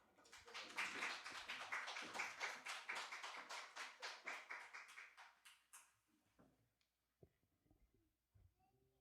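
A church congregation at a Sunday service claps together in rhythm, a fairly quick, steady run of hand claps lasting about six seconds before tapering off into a few scattered taps and near silence.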